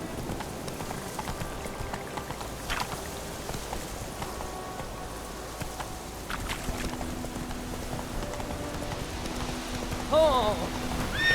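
In The Witcher video game, the horse Roach gallops with rhythmic clip-clopping hooves amid rain and distant thunder, while a voice talks over it and brief game tones chime near the end.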